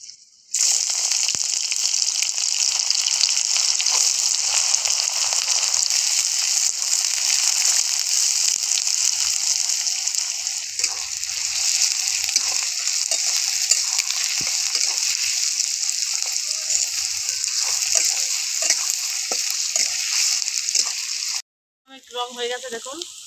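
Chopped onion frying in hot oil with cardamom, cinnamon and cloves for a dhaba-style chicken curry, giving a loud, steady sizzle that runs unbroken for about twenty seconds before a brief cut near the end.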